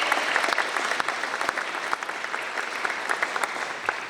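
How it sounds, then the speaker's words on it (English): An audience applauds steadily at the Ocean County Teacher of the Year 2024 ceremony, a dense, even wash of many hands clapping that holds throughout without letting up. "Round of applause for Sandy."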